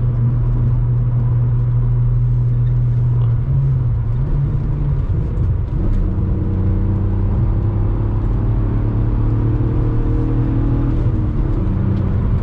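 A heavy, fast MK4 Volkswagen R32 hums with a steady engine drone while driving, pitch shifting slightly as it changes speed, with continuous road rumble underneath.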